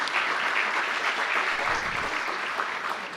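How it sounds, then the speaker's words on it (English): Steady, dense applause from an audience under a tent at an aerospace facility groundbreaking ceremony at a municipal airport, sustained and fairly loud throughout with no voices on top. "Let's give them a round of applause as well."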